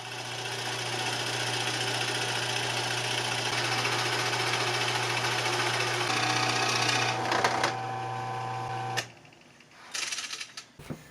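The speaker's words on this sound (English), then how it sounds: "So let's get over to the drill press." A drill press's steady machine hum drones for about nine seconds, picking up a higher whine briefly near the end before cutting off, followed by a few short bursts.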